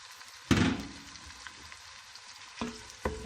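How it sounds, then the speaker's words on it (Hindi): Spiced paste frying with mixed lentils in a pan, giving a sharp sizzling burst that settles into a low crackle, then two more brief loud sizzles near the end as it is stirred. "और ये अच्छी तरह फ्राई होंगे, हल्के ब्राउन हो जाएंगे"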